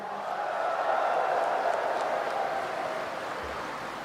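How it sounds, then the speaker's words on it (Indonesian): A hall of party delegates at a PKB national gathering in Indonesia breaks into steady applause that carries on for about four seconds, somewhat distant and even, with faint crowd murmur underneath. "Tepuk tangan untuk DPC-DPC se-Indonesia."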